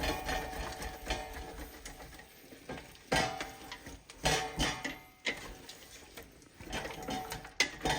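A spoon scrapes and stirs mutton biryani ingredients with potato pieces in a pot, giving irregular close scraping strokes over a steady faint sizzle, with no talking.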